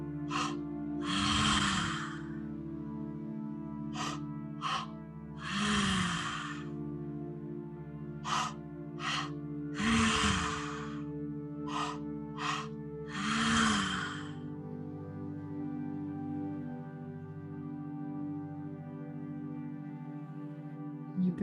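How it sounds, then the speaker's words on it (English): Four slow, deep breaths from a breath work exercise rise and fall at steady intervals over a soft sustained musical drone, which then continues alone. "You're breathing in, allowing your breath to fill up your lower three chakras"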